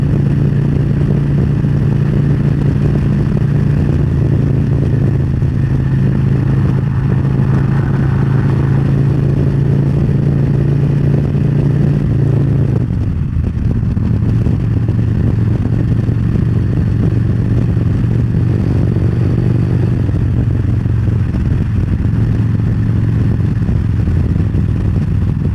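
A motorcycle cruising at 70 in fifth gear behind a small 6-inch windshield, giving a steady, loud engine drone with constant wind rush and a slight dip in pitch midway, no voices.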